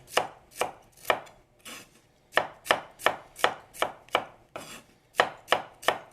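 A knife shaves cauliflower on a cutting board in close, rhythmic strokes, each a crisp crunchy chop, coming in quick runs with short pauses.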